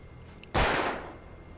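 A single loud gunshot from a firearm in the video game Alan Wake Remastered, a sharp close crack with a short decaying tail, standing alone with no talk.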